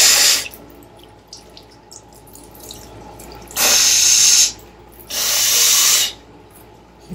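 Tap water running into a sink during face and nose washing, a near faucet stream at the start, then two separate loud bursts of gushing water between quieter dripping and handling sounds.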